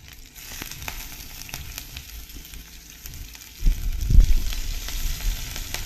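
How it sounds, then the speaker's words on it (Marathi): Green chilies drop into hot ghee in a pan, sending up a sudden louder burst of sizzling and crackling that follows a steady, quieter background hiss. "त्यात आता मी या हिरव्या मिरच्या घालणार आहे।"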